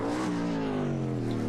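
A Lola T430 Formula 5000 race car at Pukekohe screams past, its loud engine note sliding downward in pitch as it goes by, close and alone.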